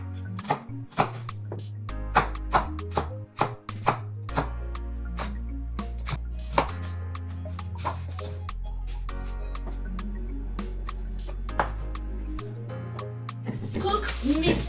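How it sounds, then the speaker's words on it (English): A knife chops carrots in quick, sharp taps at a steady rhythm, each cut a crisp click close to the mic, layered over constant background music with low bass notes. "This is how I am cutting my carrots."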